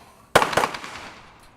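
Two quick, loud gunshots crack close by on a speed and accuracy shooting course, each fading into a short echo.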